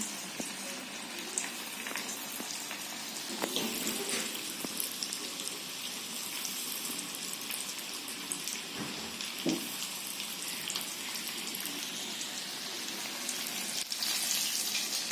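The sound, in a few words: chicken popcorn pieces deep-frying in oil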